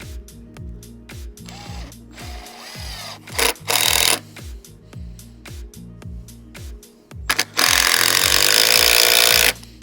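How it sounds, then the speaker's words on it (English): A power drill whirs in short bursts with clattering mechanical noise between them, building to a long, loud sustained whine near the end, during timber formwork preparation for decorative concrete. "Then we get our drill."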